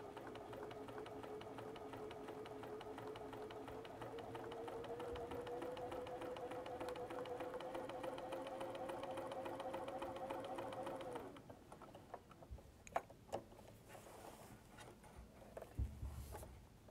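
Rapid, even chattering hum of a sewing machine with a walking foot stitching in the ditch along a quilt seam, running steadily for about eleven seconds, then stopping, followed by quiet handling clicks and fabric rustle.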